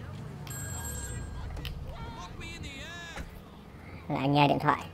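Phone ringing inside the game GTA V, a short electronic ringtone near the start amid game sound effects, followed by character speech.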